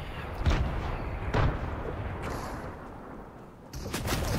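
Gunfire in an online shooter video game, several sharp booming shots spaced about a second apart over a dense, noisy background of distant battle sounds.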